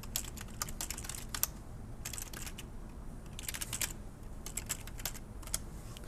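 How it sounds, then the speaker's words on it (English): Fingers tapping out an email address on a computer keyboard in quick, close clusters of light clicks separated by short pauses, quiet room with no talking. "I'm just going to type in my Stanley County Schools email"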